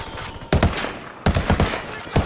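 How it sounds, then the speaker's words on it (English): Automatic gunfire in the video game Ghost Recon Wildlands comes as loud, close bursts: a long rattling volley, then another, then a short final burst, with no talk over them. "I'm shooting these fuckers."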